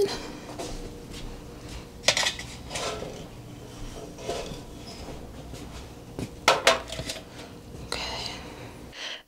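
A bundt cake pan clatters and scrapes on a kitchen counter as it is moved, giving a few sharp metallic knocks among softer handling noises, with light background talk.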